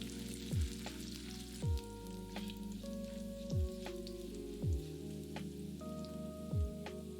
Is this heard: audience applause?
no